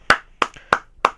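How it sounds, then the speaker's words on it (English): Four sharp hand claps in a slow, even rhythm, close and distinct with silence between each, a small round of applause for Lori. "Round of applause for Lori."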